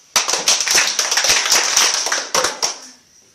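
A group of children clapping their hands, a fast, slightly uneven burst of claps lasting a few seconds before trailing off, loud and nearby.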